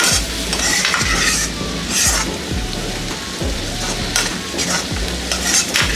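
Radish stir fry being mixed and cooked in a pan, a spatula scraping and tossing in a regular rhythm over a steady sizzle, close and loud with no talk.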